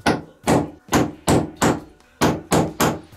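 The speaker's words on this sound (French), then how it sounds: "à l'endroit où sera le centre du trou, vous mettez l'outil et vous tapez." A hammer taps a tile-marking tool against bathroom wall tile: seven sharp, loud, evenly spaced strikes about half a second apart, close up and with nothing else heard.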